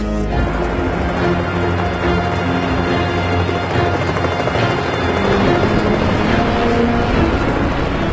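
Loud, continuous helicopter rotor thumping with a droning engine, close and steady throughout, no talking.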